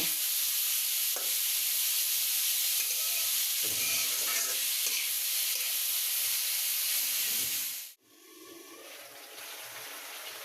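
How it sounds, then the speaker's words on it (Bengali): Greens stir-fry in a pan with fried onion and garlic, a loud, steady, close sizzle and hiss with faint stirring that cuts off sharply near the end, then a softer hiss returns. "শাকটা বাগার দেওয়ার জন্য পেঁয়াজ রসুন ভেজে নিয়েছি এর মধ্যে শাকটা দিয়ে ভালো করে ভাজি করে নেব"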